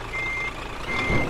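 Truck reversing beeps from Euro Truck Simulator 2 sound as a steady alarm over a continuous engine rumble, fairly loud and close, with no talk in the short clip.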